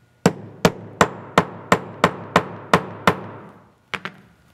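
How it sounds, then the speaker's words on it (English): A brass hammer or rawhide mallet strikes a leather cuff resting on an anvil: eight evenly spaced, sharp, close blows, a brief pause, then two quicker taps, with no talking. "you can strike it with your brass hammer, or you can use a rawhide mallet here"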